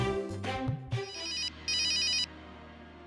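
A phone rings with a bright electronic ringtone, sounding in two clear bursts of repeated high tones after a few short thumps.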